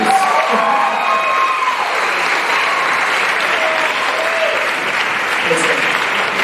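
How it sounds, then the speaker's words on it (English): An audience at the 2017 Miss NOC Tonkawa and Enid pageant gives a sustained round of applause, dense and steady, with some cheering and a voice heard over the clapping. "give her another round of applause, please"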